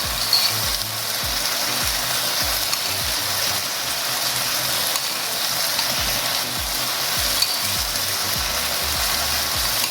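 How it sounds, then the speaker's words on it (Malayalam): Chicken rogan josh sizzling steadily in a pan as about half a cup of yogurt is poured in, a continuous close frying hiss with soft repeated low thumps of stirring or pouring running throughout. "ഒരു 1/2 കപ്പ് തൈര് ഒഴിച്ചു കൊടുക്കുക"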